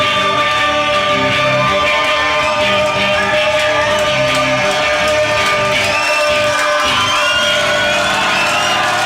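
Concert audience roaring with sustained cheering, whoops and shouts after a live performance of a song, a dense, loud crowd wash throughout.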